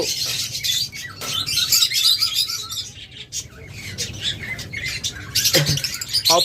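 Caged pet lovebirds or budgerigars kept for sale chatter nonstop, with dense overlapping chirps, tweets and harsh squawks up close, plus a few sharp louder calls and the odd flutter.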